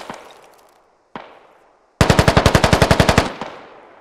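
Automatic gunfire in the tactical shooter Squad: two single distant shots, then a loud, rapid, evenly spaced burst of about fifteen rounds that ends in a fading echo.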